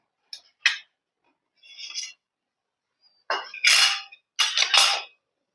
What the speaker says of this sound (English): Now to calculate density we have to remove this pan.